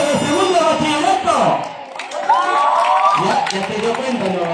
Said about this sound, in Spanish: Y los gritos y aplausos de segundo bachillerato.